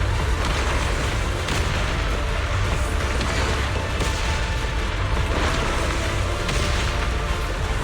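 Dense, continuous rumbling explosions and booming blasts fill a fight sequence in the video game Zenless Zone Zero, loud and sustained with no pauses or speech.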